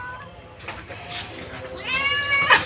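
A cat meows near the end, a rising, wavering call that comes through clearly while a person talks and indoor background noise continues.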